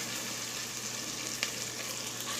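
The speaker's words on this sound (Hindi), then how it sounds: "1 मिनट के लिए भूनते हैं" Ginger paste, whole chillies and garam masala frying in hot oil give a steady, moderately loud broadband sizzle that holds evenly throughout, with one brief brighter crackle partway and no voices.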